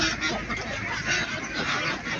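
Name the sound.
ducks fighting and honking on a duck farm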